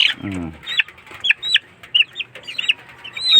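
Chickens cluck repeatedly in a small, crowded coop, short bright calls coming in bursts close by, with a low throaty call near the start and no talk.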